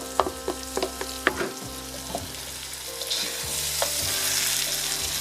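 Green and red bell peppers fry with turmeric rice and onion in a pan, a steady sizzle broken by several spoon taps and stirring scrapes, close and moderately quiet, with no talking.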